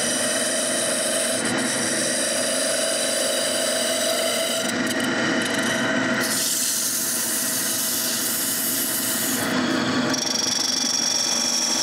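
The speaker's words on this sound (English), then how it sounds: "Now I can return to the lathe and finish the turning." Wood lathe turning a tool handle, a continuous loud whirring hiss with the pitch and tone shifting as the cut changes, no speech.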